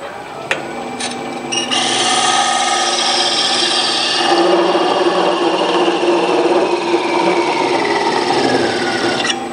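A wood lathe whirs as a parting tool cuts into spinning wood, producing a loud, sustained rasping scrape with a few sharp knocks at the start.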